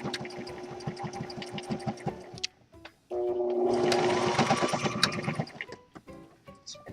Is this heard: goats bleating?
no